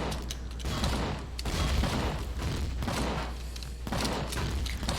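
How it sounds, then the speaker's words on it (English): Repeated blasts and thuds of rocket launcher fire in the sci-fi survival game Empyrion Galactic Survival, several loud bursts over a constant low rumble. "Rocket launcher."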